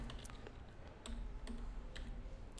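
Keys clacking on a computer keyboard while a local host address is entered, a short quiet run of separate clicks with no talk over them.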